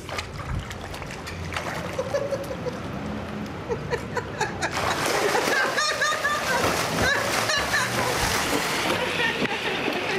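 Water splashing in a backyard pool as a person treads water, with cold-water gasps; steady, close splashing and sloshing throughout, louder in the second half, with voices talking over it.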